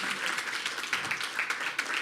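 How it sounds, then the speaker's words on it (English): An audience at a community talk event claps for a helper named Brendan, a dense, continuous round of applause with no break over its short span. "Let's give Brendan a round of applause"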